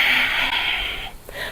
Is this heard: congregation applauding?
no